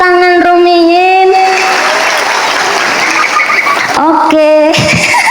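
Applause from the audience at an Islamic sermon gathering in Sawangan, Magelang rises in the middle, loud and close, flanked by a voice speaking loudly into a microphone before and after.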